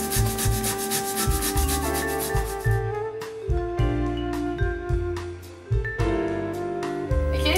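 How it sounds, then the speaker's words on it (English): Beetroot being grated on a grater in a kitchen, a close, steady rasping scrape repeated in quick strokes throughout, with no talking. "So the first step is to grate our beetroot. We take a grater and just do that."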